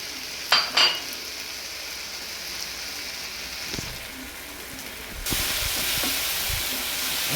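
Cashews fry in a pan for tomato rice with a steady, fairly close hiss that swells louder near the end, after a couple of brief clatters at the start.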